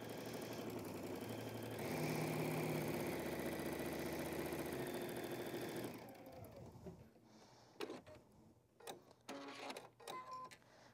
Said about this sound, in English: I'll just stitch those 2 strips together with right sides all the way through all the layers